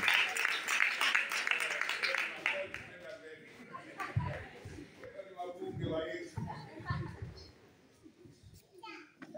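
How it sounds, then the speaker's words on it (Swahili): A church congregation claps to welcome a preacher: a dense burst of hand clapping early on, then fading into scattered voices and children chatting nearby. "Piga makofi."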